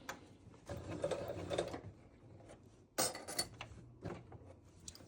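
A sewing machine stitches through quilted binding fabric in short bursts, with a rapid mechanical whir that pauses between runs, punctuated by faint clicks and handling taps, close and quiet with no talking.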